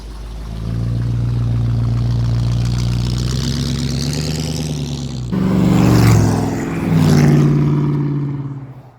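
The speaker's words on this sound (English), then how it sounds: "Now with some confidence in the old pickup truck, we stretch our wings and we were cruising at 85 miles an hour" A vintage pickup truck's engine drones loudly and steadily while cruising at highway speed across Nevada toward the Bonneville Salt Flats, with a shift in tone midway and a couple of surging swells of wind and road noise.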